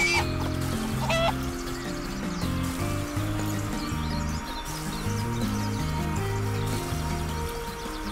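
Chickens cluck in the video game Craft the World, with a run of short clucks over a steady, tonal game soundtrack.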